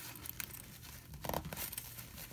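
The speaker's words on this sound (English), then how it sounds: "that's not a very good sound when you hear that on the zipper" Faint crinkling and straining from an overpacked two-piece compression packing cube as its zipper is pulled tight, a low rustly texture with a brief, slightly louder crunchy burst midway, close up and without speech.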